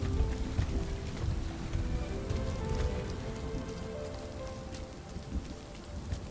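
Steady rain falls in the video game Rime, a soft continuous patter that fills the scene at even loudness throughout, with faint low tones beneath.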